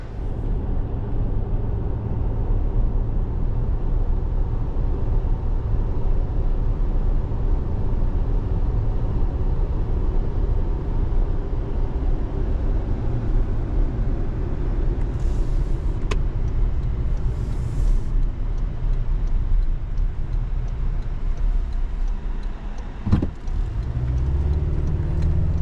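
A 2024 Toyota Tacoma truck drives along with a steady, loud low engine and road rumble, heard from inside the cab, with one brief knock near the end.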